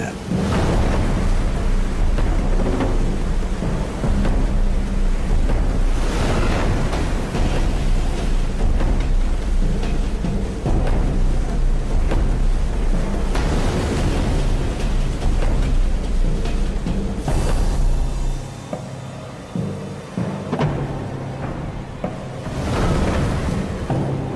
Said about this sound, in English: 36 hours of storm laid ahead